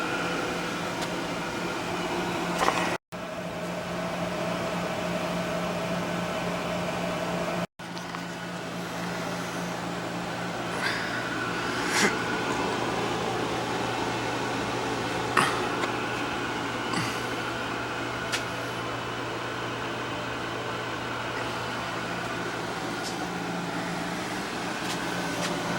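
SWG power venter blower on a gas water heater with a vacuum switch on the gas valve hums steadily, a continuous motor drone with faint clicks and small knocks layered over it throughout.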